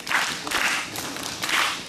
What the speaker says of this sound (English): Big Husky cheer!